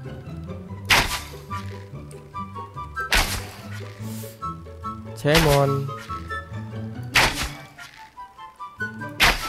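Arrows strike targets in the survival game ATLAS as a series of heavy thunks spaced a couple of seconds apart, loud against layered game music, with someone speaking briefly.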